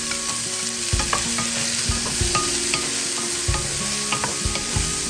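Pork meat being stirred as it fries in a pan, with a steady sizzle and repeated scraping, knocking strokes of a utensil against the pan at an uneven rhythm, close up and with no talking.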